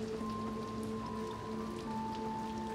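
Steady rain patters across a surface in Little Nightmares 2, a continuous hiss with a low sustained tonal drone from the game's ambience beneath it and no voices.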